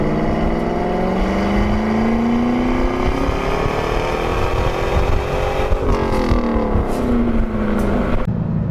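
A Chevrolet Camaro Z/28 V8 with a loud aftermarket Magnaflow exhaust accelerates hard, the engine note rising steadily and shifting, roaring close and continuous.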